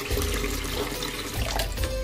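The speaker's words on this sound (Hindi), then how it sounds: "अब इसमें आधा जग ठंडा पानी का जाएगा।" Cold water poured into a juicer jug, a steady, close rushing splash that fills the whole moment without pause, with no voices over it.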